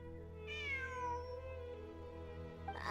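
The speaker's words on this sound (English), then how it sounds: "It really is a cat." A cat meows in a video game: a single drawn-out meow that falls in pitch, heard over a steady droning game background with a short rising sound at the end.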